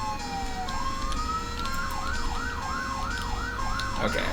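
In a video game, an ambulance siren sounds amid traffic, climbing into a rapid repeating wail that stays fairly close over steady road rumble.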